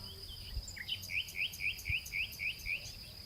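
Birds chirp outdoors beside a cafe: a quick run of about nine bright, rising chirps in an even rhythm, fairly soft over a steady high hum and faint background noise.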